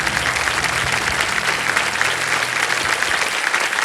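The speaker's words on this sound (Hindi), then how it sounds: "तालियां बज जाएं इनके लिए।" A studio audience on the KBC quiz show applauds a contestant, a loud, steady, dense round of clapping that fills the whole moment.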